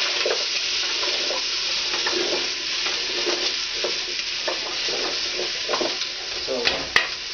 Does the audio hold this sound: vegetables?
yes